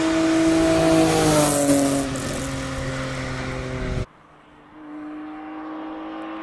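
E46 BMW 328 race car at the Cape Town hillclimb (Speed Classic), engine droning loudly with steady harmonic tones and a slight rev change, then cutting off abruptly before a quieter idle-like hum resumes.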